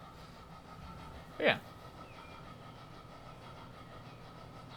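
Train from Transport Fever 2 rolling into a station, a faint steady engine and rail rumble under a short burst of speech.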